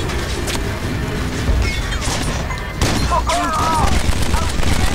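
Dense, continuous gunfire from a firefight in the video game Kane & Lynch: Dead Men, with overlapping shots, crashes and bursts filling the clip, loud and close, with a voice briefly heard amid the noise.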